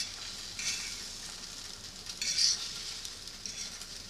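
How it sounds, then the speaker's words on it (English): Scrambled eggs hiss faintly in a frying pan while a fork scrapes and nudges them around the edges in short, quiet strokes. "just take a fork and just sort of go around the edges, moving that outer edge of egg to the middle"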